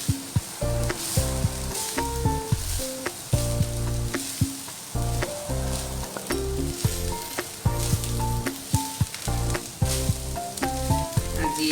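Coconut rice is stirred and mixed in a hot pan, with a steady sizzle running throughout and tonal music playing over it.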